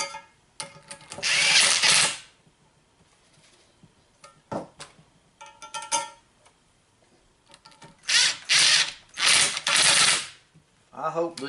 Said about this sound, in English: Just getting the bolts put in and tightened up